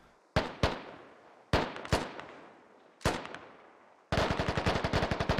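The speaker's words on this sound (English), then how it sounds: "I'm hearing some shots to my north" Gunfire in the military shooter Squad: sharp, loud single shots in spaced pairs and bursts, followed by a rapid automatic burst at the end, with short echoing decays between.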